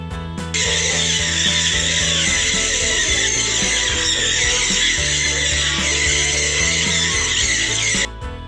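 A flock of Jenday conure parrots screeches loudly and continuously, forming a dense, shrill wall of calls that starts abruptly and runs for several seconds before cutting off.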